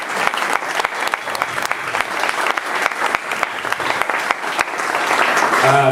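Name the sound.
audience applause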